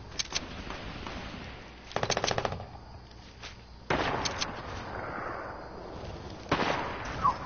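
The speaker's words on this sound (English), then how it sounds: "you shooting the machine gun?" Machine gun fire in Fortnite: short, rattling automatic bursts sound at a moderate distance, spaced a second or two apart, with single cracks in between, over a low ambient background.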